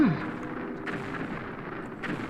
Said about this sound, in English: we're going to wait for the explosions to stop at the bottom